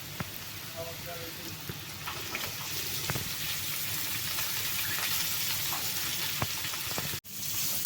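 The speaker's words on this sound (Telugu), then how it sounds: "ఇప్పుడు పచ్చెనగపప్పు వేసేద్దాం." Green chickpea dal hits a hot frying pan and settles into a steady sizzle, close and even, with faint clinks and a brief sharp knock near the end.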